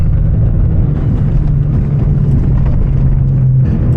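A car drives along a road with a steady low engine drone and rumble, loud and close, as if heard from inside the cabin, with no speech.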